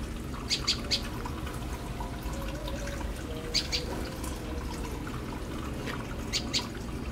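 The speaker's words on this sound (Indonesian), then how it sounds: "kita cek dulu burung-burungnya ada di sini" Birds in a small home aviary planted with ornamental plants, giving short bright chirps in clusters of two or three, repeated a few times over a constant watery hiss, with no talking.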